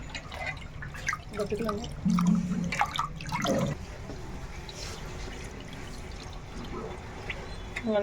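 Water is poured and splashed over goat tripe being washed by hand, a steady trickling, dripping wash with a louder gush partway through, close by under a household background.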